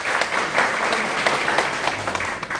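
Audience applause at a JCI gathering, a dense burst of many hands clapping that carries steadily for a couple of seconds, close and lively, with no talk over it.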